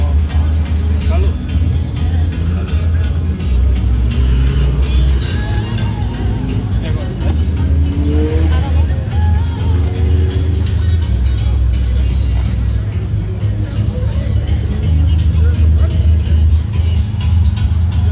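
A car engine idles and rumbles steadily at an outdoor Honda car meet, a loud continuous low drone under crowd chatter and nearby voices.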